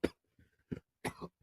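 Several close, quiet coughs and throat clearings from one person come in short bursts with brief silent gaps between them.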